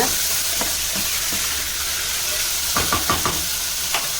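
A spoon stirs chopped carrot and tomato into grains for multigrain khichdi in a pot, a steady hiss with several soft scraping and clinking strokes, clustered near the end.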